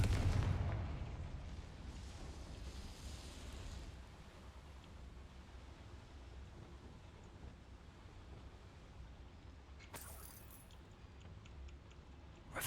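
A Confringo spell explosion in a Harry Potter video game: a loud, low booming blast at the start that rumbles and fades into a steady ambient hum, with a brief bright burst later on.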